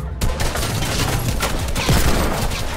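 Rapid gunfire crackles in a Fortnite match, a dense burst of close, loud shots filling the whole stretch without any voices.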